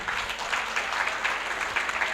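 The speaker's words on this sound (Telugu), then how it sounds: "ఒక్కసారి మళ్ళీ చప్పట్లు కొడదాం" An audience claps for children at a youth gathering of a political organisation's convention, steady dense applause running the full length at moderate loudness, with no voices standing out.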